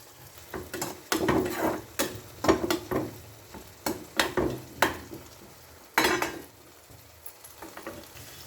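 Dried fish fries in a pan and is stirred repeatedly, with bursts of sizzling and sharp scraping clatters of a utensil against the pan in an uneven rhythm, close and fairly loud.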